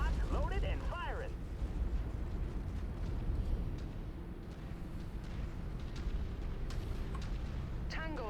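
Weapons fire from mechs in the video game MechWarrior 5 as deep, rumbling blasts and bursts over dense low battle noise, with a brief voice heard near the start and end.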